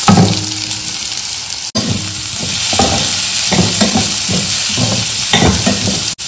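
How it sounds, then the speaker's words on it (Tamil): Finely chopped onions hit hot oil with spluttering cumin seeds, a loud continuous sizzle with scraping stirs and clanks of a spatula against the pan, briefly cut off once. "இந்த பொடியாக கட் பண்ண வெங்காயத்தை போட்டுக்கலாம்"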